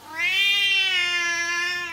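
A single drawn-out Siamese cat meow, close and clear, rising slightly then fading over about two seconds.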